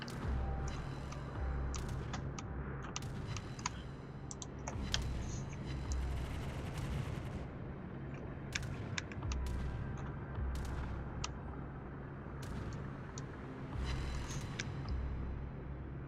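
Anti-aircraft defensive fire from a warship in World of Warships, a rapid, uneven stream of distant booming flak bursts and sharp cracks over a low steady engine rumble, going on throughout without letup.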